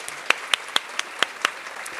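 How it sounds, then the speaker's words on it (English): A handful of sparse, separate hand claps ring out at an award ceremony where the YWCA Rock County honors Black Hawk Technical College, about six crisp claps spaced unevenly over two seconds, with quiet between them. "Yes, we can clap."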